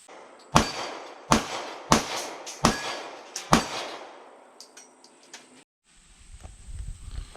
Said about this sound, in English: Now I'm shooting a Springfield Army Service 40, so the 40 cal is a little bit more kick to it.